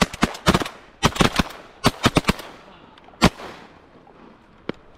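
Shotgun shots fired at teal ducks during a hunt in Nicaragua, a rapid flurry of sharp, loud blasts in quick clusters, then a single louder shot and a faint distant pop near the end.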